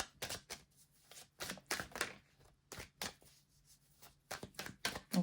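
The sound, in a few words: shuffling tarot cards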